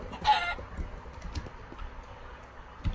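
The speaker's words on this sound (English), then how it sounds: "it's just gonna spawn another chicken, and now the chicken is gonna haunt me forever" Chicken clucking in the Minecraft video game, one short clear cluck at the start over soft background clicking like keyboard typing.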